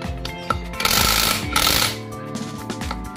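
Mail Tank 21-volt brushless cordless impact wrench running with torque adjusted up, a loud rattling hammering burst that swells for about a second, pauses briefly, then hammers again before easing off.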